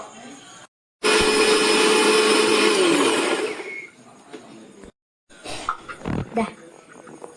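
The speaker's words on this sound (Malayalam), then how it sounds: "ഇനി ഈ കൂവ അരക്കണം" A mixer grinder grinds chopped arrowroot pieces for homemade arrowroot flour, a loud steady whirring roar lasting about three seconds that winds down, with quieter kitchen sounds and brief rattles afterward.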